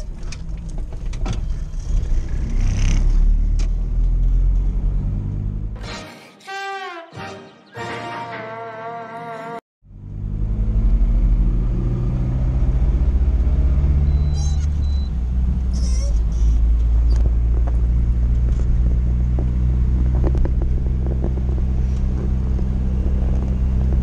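UAZ vehicle driving along town streets, its engine rumbling loudly with a brief drop and rise as gears are changed using double-clutching; a voice speaks briefly over the noise.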